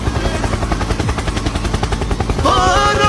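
A helicopter sound effect: loud, rapid rotor chopping pulses continuously throughout, with a brighter whining tone rising near the end.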